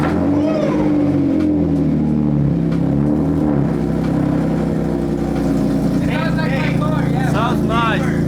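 A BMW E36 with a loud aftermarket exhaust idles and revs nearby, a deep steady rumble throughout, while voices speak over it near the end.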